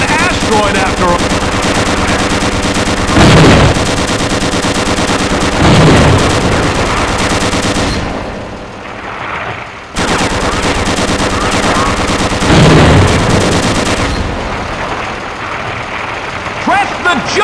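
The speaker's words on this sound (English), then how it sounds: "Press your crouch key to fire the machine guns." Tank-mounted machine guns fire in sustained dense bursts inside a Gunman Chronicles asteroid level, loud and continuous with a heavy engine drone beneath, pausing briefly before another long volley.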